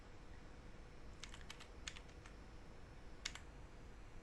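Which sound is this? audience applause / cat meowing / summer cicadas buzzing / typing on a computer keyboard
typing on a computer keyboard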